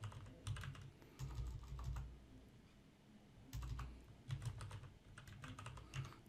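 Computer keyboard typing with repeated key presses, including the tab key, while entering data into an Access database form; keystrokes come in short clustered bursts separated by brief pauses, close and fairly quiet with no voice.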